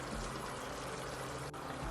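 Water poured off peppers while cooking Nigerian soups, a quiet continuous splashing pour with a broad hiss, briefly interrupted near the end, no talk.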